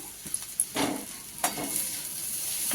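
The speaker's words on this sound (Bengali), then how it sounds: "এবারে সেদ্ধ করা চাউমিন আর ভেজে রাখা ডিম একসাথে রাখা এটা এবারে মিশিয়ে দেবো" Boiled chow mein tossed with fried egg in a hot pan, sizzling steadily with a few distinct stirring scrapes and clacks of a utensil, close and moderately loud, no talking.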